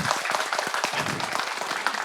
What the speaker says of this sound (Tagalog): Kukuripot niyo sa palakpak.